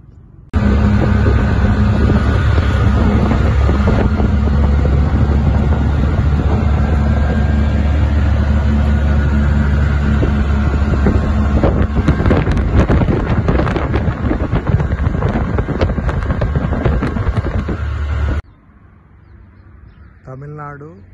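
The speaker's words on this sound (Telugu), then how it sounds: "మాన్సూన్ విండ్స్ చాలా బాగా వీస్తూ ఉంటాయి." Strong monsoon wind at a large wind farm in Tamil Nadu roars steadily into the microphone as loud, constant buffeting rumble for most of the stretch, then suddenly drops to a quieter background near the end.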